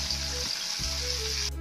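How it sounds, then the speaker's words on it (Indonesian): Gourami fish frying in oil in a nonstick pan, giving a close, steady hissing sizzle with a brief dip in the low crackle partway through. No one speaks. "Kita goreng ikannya ini setengah matang aja, nggak usah sampai dia terlalu kering atau matang banget ya"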